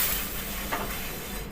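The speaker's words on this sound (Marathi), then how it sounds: "पाणी टाकून बघायचं तवा तापलाय का" Water hissing and sizzling on a hot iron tava heated for masala dosa, a steady close steam hiss with a brief sharper burst midway.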